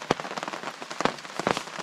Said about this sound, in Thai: ฝนตกแล้วเราค่อยไปหา